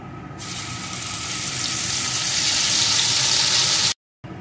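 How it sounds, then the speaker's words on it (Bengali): Whole spices crackling in hot oil in a pan for a vegetarian butter paneer, a steady bright sizzle that swells slightly before cutting off abruptly near the end, with no voices. "ফোড়নগুলোকে একটু ভেজে নিয়ে আমি ওই পেস্ট করা মশলাটা এর ভিতরে দিয়ে দেব।"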